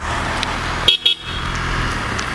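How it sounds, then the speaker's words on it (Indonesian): A car horn sounds two short close honks in quick succession over a steady background of road noise. "kok ada mobil klakson nih"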